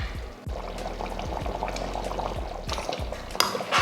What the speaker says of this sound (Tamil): மறுபடியும் ஸ்டவ் ஆன் பண்ணி கொதிக்க வைக்கலாம்.